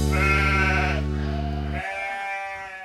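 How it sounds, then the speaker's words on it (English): A sheep bleats loudly and close in a farm-animal sound game for children, one long wavering call that breaks off and gives way to a second, thinner bleat near the end. "It's a sheep."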